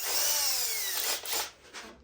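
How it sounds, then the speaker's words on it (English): A power drill bores a hole in a wooden table leg for a threaded insert, its motor whining loud and close, then winding down and cutting out in short bursts near the end. "So now we just get the drill bit that fits for this piece right here for the insert, and we do the first one."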